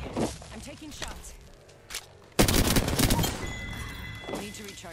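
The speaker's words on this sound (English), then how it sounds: "I'm taking shots." Gunfire rattles in the battle royale game Apex Legends, with a few scattered shots, then a sudden loud volley of rapid fire. Voices and other game sounds are mixed in.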